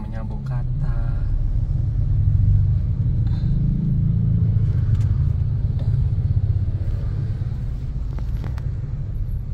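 Heavy low rumble of road traffic in a jam, engines idling and creeping close by in a steady drone, with people talking over the noise throughout.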